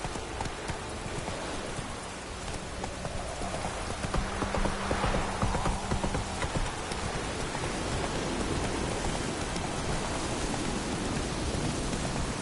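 Geralt's horse Roach trots with soft, steady clip-clop hoofbeats in The Witcher 3, half-buried under a constant hiss of rain and ambient noise.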